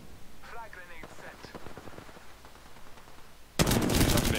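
Gunfire in Apex Legends: a faint series of distant rapid shots under a radio-like voice, then a loud, dense burst of automatic fire close by for the final second.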